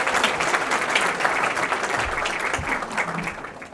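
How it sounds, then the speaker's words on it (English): An audience at the Trenton, Michigan State of the City Address gives a steady round of applause for Bob Jensen, many hands clapping continuously at an even level throughout. "We just have a little round of applause for Bob Jensen."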